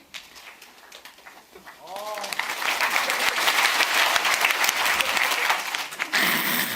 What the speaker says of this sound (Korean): 내가 팔을 어떻게 돌리느냐에 따라서 박수 소리도 커졌다 작아졌다 한다